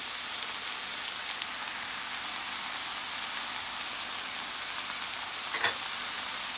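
Chili peppers frying in a pan with garlic and salted fish: a steady, dense, close sizzle with a few faint clicks of a utensil, no voices.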